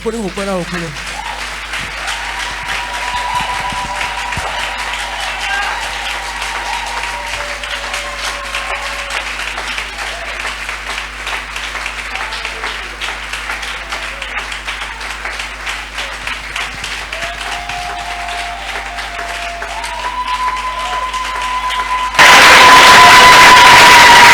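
A church congregation at a Sunday thanksgiving service clapping and cheering for Jesus Christ, a dense steady wash of applause that runs through the whole clip with music tones over it and grows suddenly louder near the end.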